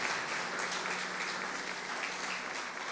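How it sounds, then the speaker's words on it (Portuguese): Church congregation applause fills the space with a dense, continuous wash of clapping from many hands, steady and unbroken throughout, heard from within the room. "Aplauda ao Senhor e glorifique o seu nome por isso."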